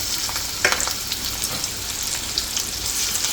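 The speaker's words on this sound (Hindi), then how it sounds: "तो अब इसमें हम डालेंगे थोड़ा सा जीरा, साथ ही साथ बारीक कटे हुए प्याज डाल देंगे थोड़े इसके अंदर" Cumin and finely chopped onions sizzle in hot oil with a steady, close hiss and scattered crackles, with no talking.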